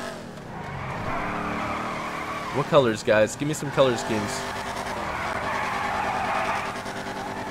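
A drift car in GTA 5 revs and squeals its tires, with a powerful engine drone running throughout and a cluster of sharp rising squeals in the middle, while a person talks over it.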